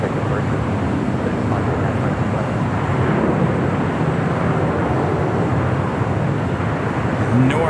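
Airliner at LAX departing for London Gatwick, a steady broad roar of jet engines heard at a distance, continuous and even throughout with no talk over it.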